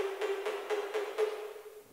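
Percussion hits through a bit crusher and fully wet reverb sound as five evenly spaced smeared, gritty washes over a sustained metallic tone, soft and distant with blurred attacks, alone and fading at the end.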